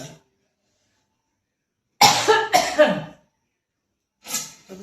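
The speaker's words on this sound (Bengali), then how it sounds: "হঠাৎ করে কাশি এসে গেল" A few sharp coughs in a quick burst, close by, followed after a pause by a softer cough; no talking.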